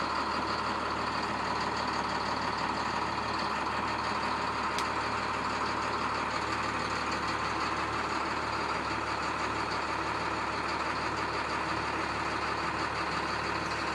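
A 2012 IC CE school bus engine idles after a cold startup, giving a steady, loud diesel rumble and whine that holds unchanged throughout with no talking.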